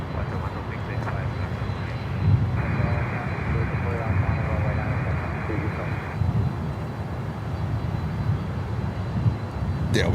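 An airliner takes off at Miami airport, a steady broad engine roar holding throughout at moderate level, with people talking excitedly over it.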